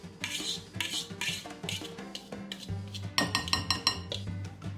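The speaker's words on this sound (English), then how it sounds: "Remember to grab a fork and scrape the edges as much as you can get off." A metal fork scrapes and clinks around the sides of a bowl of chocolate chip cookie dough, giving close, repeated scraping strokes with sharp clinks that grow busier toward the end.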